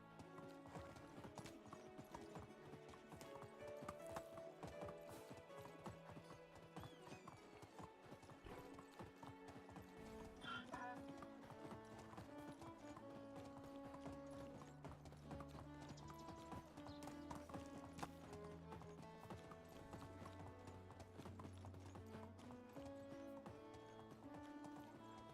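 Horse hooves clip-clop in the Medieval Dynasty video game, a steady rhythmic trot running continuously under layered background music with an occasional whinny.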